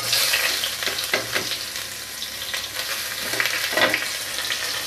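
Chopped onions sizzle in hot oil with panch phoron and cumin, a steady close-up frying hiss broken by a few soft stirring scrapes, with no voices.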